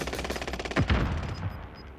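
Gunfire in the video game Call of Duty Warzone Pacific: a rapid automatic burst of close shots in quick rhythm, with one sharper loud crack near the middle and a fading tail, no talk.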